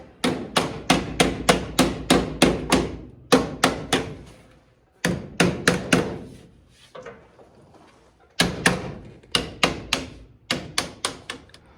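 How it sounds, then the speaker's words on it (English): Sharp, ringing hammer blows on truck cab corner sheet metal clamped with vice grips come in rapid bursts of about eight to ten strikes, with short pauses between runs; loud and close, no talking. "clamp it down with some vice grips and just start hammering on it"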